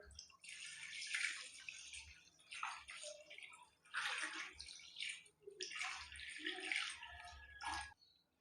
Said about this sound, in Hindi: और थोड़ा सा हम इसमें पानी डालेंगे।